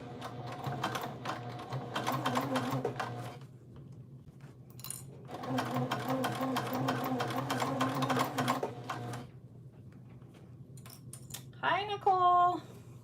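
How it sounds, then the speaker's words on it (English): A sewing machine stitches a modified Catalina inside panel at a quarter-inch seam, running in two long steady bursts separated by a pause, with a brief voice near the end. "Okay, so I am gonna keep these lined and then just sew at a 1/4 inch."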